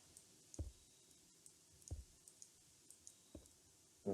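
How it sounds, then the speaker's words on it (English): Isolated clicks from a cheap computer keyboard, several sparse taps spaced about a second apart, faint and close with no talk. "I'm also using a slightly shittier keyboard"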